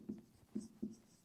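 Chalk or marker writing during a classroom-style lesson, three short scratchy strokes spaced evenly apart, close and fairly soft with no talking.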